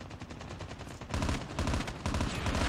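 Rapid M16 rifle fire in the shooter game Call of Duty Mobile, tight bursts of sharp cracks in a fast steady rhythm that grow louder partway through, close and with no voices.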